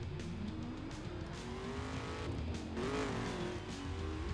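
A car driving in the racing game The Crew, heading into Chicago: a continuous engine drone with shifting pitch and faint tire noise, moderately quiet and steady throughout, no talking.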